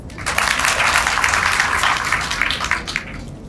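An audience applauds the jury members at a Malian debate match, a dense, steady clapping that holds strong for about three seconds before thinning slightly at the end.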